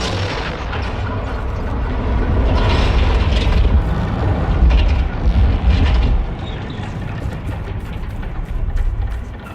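A heavy wheel mechanism in Dragon Age Inquisition turns with a loud, sustained grinding rumble and ratcheting clanks that build and then fade over several seconds.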